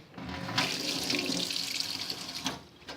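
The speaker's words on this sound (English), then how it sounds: "And then I'll just wash my hand." Water runs steadily from a kitchen tap as a hand is washed under it during kombucha preparation, a close, continuous hiss lasting about three seconds with slight splashing changes.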